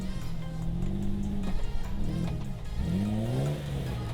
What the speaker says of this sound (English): Sadly, with only the LSD in the rear, it just does not want to climb up that tough rock.